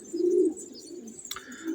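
Male pigeons in a spacious loft give low cooing calls, one strong coo near the start followed by softer coos and a brief sharp flutter or tap, fairly close.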